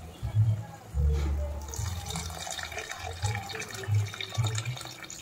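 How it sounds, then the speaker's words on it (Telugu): Water is poured into a pan of simmering egg, dry fish and drumstick curry, a soft splashing pour under a low voice talking. "ఇప్పుడు ఇందులో మనం వాటర్ వేసుకుందాం"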